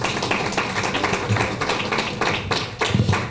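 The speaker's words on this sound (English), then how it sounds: "I ask you to give them a round of applause" A round of applause for the Lions Club of Tropical Garden, a fairly loud, continuous patter of many hands clapping at an event, sustained throughout with no speech over it.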